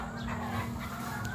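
Rooster among young pullets at a gamefowl breeder's yard in Catbalogan City, Samar, giving soft low clucks heard faintly against steady background noise.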